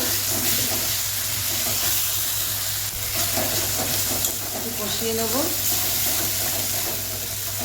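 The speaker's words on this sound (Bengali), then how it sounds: "এরপর আমি আদা রসুন বাটা দিয়ে একটু কষিয়ে নেব।" Ginger garlic paste and chicken fry in a hot pan with steady close sizzling and occasional stirring scrapes, a constant low hum underneath and faint voices in the background.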